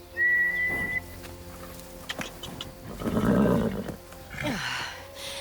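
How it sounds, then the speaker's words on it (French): A horse gives a clear, steady high whistle for about a second, followed by rough snorting and a harmonic, neigh-like call, then another brief rising whistle. "C'est un cheval de garde. Ah oui. Et il aboie comme un chien? Non, il siffle."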